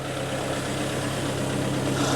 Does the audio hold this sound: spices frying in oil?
no